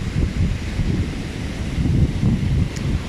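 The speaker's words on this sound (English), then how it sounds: "The waves are much bigger than usual because this is the rainy season" Big ocean waves and gusty wind on Boracay's White Beach in the Philippines during the rainy season: a continuous low rumbling surf with buffeting wind noise on the microphone, no voices.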